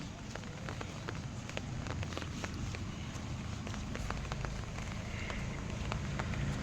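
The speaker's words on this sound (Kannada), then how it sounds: "ಮಳೆ ಚಾಲು ಸಣ್ಣ." Light rain patters softly around a person walking outdoors, a faint steady hiss with scattered small taps throughout.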